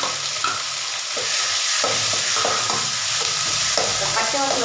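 Onions being fried and stirred in oil for chicken masala, a steady broadband sizzle with repeated scraping stirs of a spoon against the pan, close and continuous with no talking.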